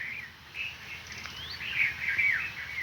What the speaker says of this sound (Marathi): चिमण्या पाखरं सगळे उठलेले आहे